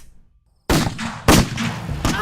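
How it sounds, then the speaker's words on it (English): Several loud, sharp gunshots ring out after a brief silence, each with a booming tail, in quick succession. "I heard the gunshots."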